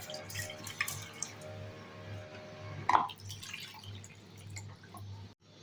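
Half a cup of rice is washed with water in a kitchen, giving quiet, sparse splashes and drips with one sharper drop near the middle.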